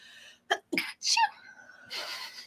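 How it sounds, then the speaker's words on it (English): A sharp sneeze bursts out after a couple of quick inhaled gasps, close and loud, followed by a soft breathy exhale. "Super cute sneeze."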